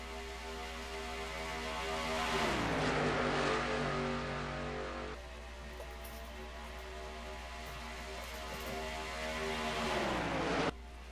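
Pro Cup race cars lap Talladega Superspeedway, engines droning in a dense pack, with two loud swells as cars roar past nearby and pitch drops as they pull away, with no talk.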